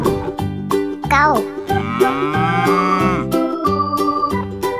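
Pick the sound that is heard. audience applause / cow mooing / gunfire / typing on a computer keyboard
cow mooing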